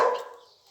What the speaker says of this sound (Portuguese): Os cachorros acuando aqui, ó.